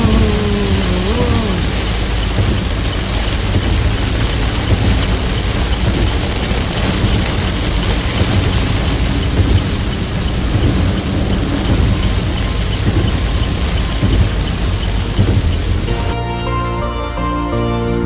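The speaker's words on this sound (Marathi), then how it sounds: "पुढे पाऊस बघा" Heavy rain pours steadily on the Mumbai–Goa highway while thunder rumbles through the downpour, loud and continuous for the whole stretch before the sound changes abruptly at the very end.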